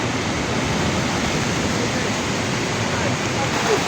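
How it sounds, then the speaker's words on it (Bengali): Strong wind roars steadily in a storm with light rain, a dense broadband rush that fills the whole clip close to the microphone with no voice. "ভয়াবহ বাতাস ছাড়তেছে।"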